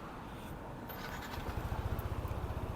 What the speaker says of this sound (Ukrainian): Вижимаю гальма, нажимаю на кнопку стартера.